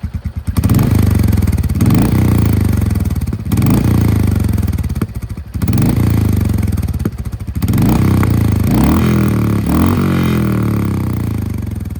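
Motorcycle fitted with a Gursewak exhaust and dB killer, revved repeatedly: a loud, close engine drone rising and dropping in several throttle blips, with a brief lull between pulls and no talking.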